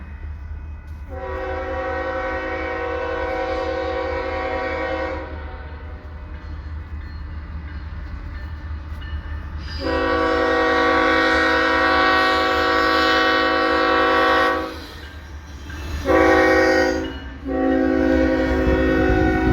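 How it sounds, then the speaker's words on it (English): A westbound double-stack freight train on the former C&NW main line, Missouri Valley–Fremont subdivision, passing close by: a loud, steady rumble of wagons with repeated long horn blasts and a few shorter ones near the end, no talking. "And here's our first westbound stacker of the day."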